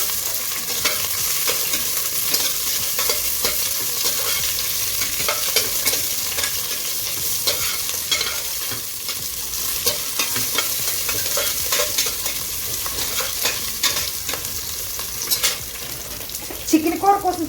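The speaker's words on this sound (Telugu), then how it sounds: "ఒక ఉల్లిపాయ 4 ముక్కలు చేసి వేసుకుని సిమ్లో పెట్టి వేసుకోవాలి." Onion cut into four large pieces frying in oil on a low flame for coconut rice, a steady close sizzle with occasional stirring scrapes and a louder clatter near the end.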